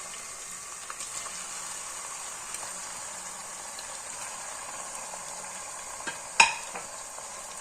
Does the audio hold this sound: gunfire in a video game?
no